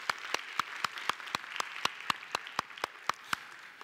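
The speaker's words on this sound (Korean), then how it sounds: "우리 수고하는, 눈에 안 보이는 곳에 수고하는 방송팀에게 박수 한번 하겠습니다" Church congregation clapping in unison during a Korean sermon, about fifteen crisp, evenly spaced sharp claps in a steady rhythm, moderately close over a quiet room.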